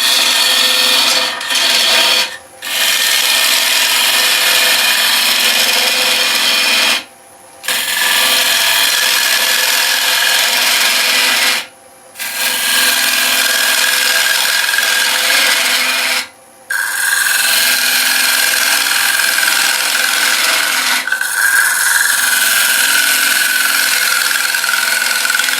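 Lathe chisel cutting across the bottom of a resin and wood bowl, a loud continuous scraping hiss that stops briefly several times before resuming, close and with no voices.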